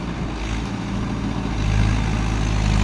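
A Mahindra vehicle's engine runs steadily in first gear at medium revs, giving a loud, continuous low hum that swells slightly toward the end.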